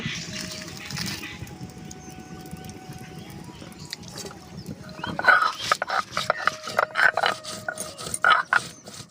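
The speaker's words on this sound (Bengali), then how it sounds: "শুকনো লঙ্কাটা বেটে নেব।" Dried red chilli being ground on a stone grinding slab, rough rhythmic rubbing and rasping strokes that start faint and grow louder and more frequent in the second half, close by.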